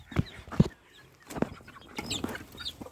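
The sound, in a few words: chickens clucking as chicks are let out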